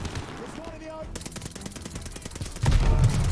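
Rapid bursts of gunfire in the video game Call of Duty: Vanguard, crackling shots that build to a loud heavy blast at the end.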